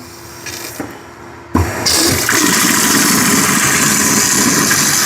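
Hot water from a newly installed kitchen faucet gushes on abruptly after a quiet moment and keeps running in a loud, steady rush close by.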